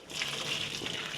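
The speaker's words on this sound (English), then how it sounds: "Time to drain the noodles." Hot water from boiled macaroni noodles pours and gushes briefly into a strainer, a short, soft, steady rush of liquid.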